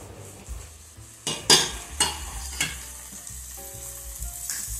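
Chopped skinless, seedless tomato drops into a hot pan, with a few sharp clatters of utensil on metal, then a steady low sizzle as it cooks.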